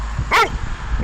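A Doberman gives one short, sharp bark that stands out briefly over a low background rumble.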